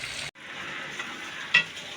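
Onions frying with pork in a hot pan over a fire, a steady close sizzle with a brief break and a sharp scrape of stirring near the end.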